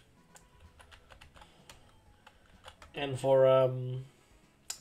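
Typing on a computer keyboard with scattered sharp clicks, close and quiet, interrupted by a brief spoken phrase.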